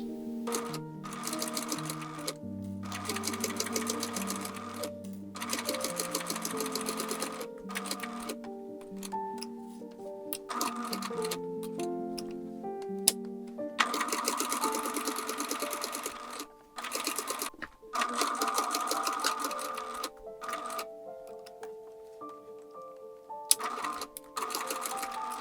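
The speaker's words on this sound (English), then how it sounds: "Then what I'm going to do is run a decorative stitch across the top and the bottom" A sewing machine runs a decorative stitch along a doll overalls belt, whirring in several long bursts separated by brief pauses, close and steady with a rapid ticking mechanical rhythm.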